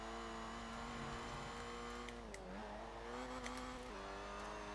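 Supercharged engine of a Citroen DS23 in Forza Horizon 4, a steady, loud mechanical drone with a supercharger whine that dips briefly in pitch a couple of times as the car drives smoothly.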